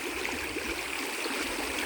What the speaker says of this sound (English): There's already enough water going through this.